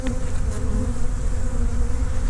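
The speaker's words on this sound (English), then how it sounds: "lots of nurse bees." Honey bees swarm over a beehive frame of brood and pollen, giving a loud, continuous buzzing hum close by with no voices.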